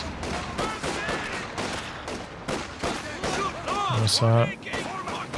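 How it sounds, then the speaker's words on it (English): Mortar fire and battle explosions in Company of Heroes 2, a World War II strategy video game. Repeated thumping impacts and bursts sound in quick succession under steady commentary, with a louder hit near the end. "that's mortar cover actually in the center"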